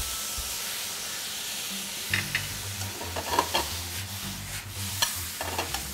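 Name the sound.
soy sauce added to pork and shiitake mushroom mixture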